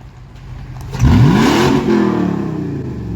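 A Toyota 4.7-litre V8 with a 3-inch straight pipe exhaust gives one loud free rev, surging up from a low idle and then sinking back to a steady rumble, close by.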